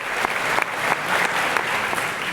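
Dense applause from the crowd at a New Year's greetings ceremony, an even roar of many people clapping at once, close and sustained without a break from start to finish.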